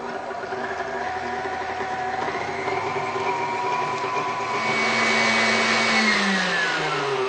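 An electric mixer whips buttercream frosting in a bowl, a steady motor hum and whir that climbs in speed and pitch partway through, running continuously up close without any talk.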